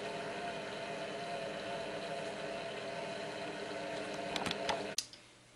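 A Compact Cook multicooker runs at speed 1 while cooking fig foie gras, giving a steady mechanical hum with motor whir and faint rattles that stops abruptly near the end, followed by quiet.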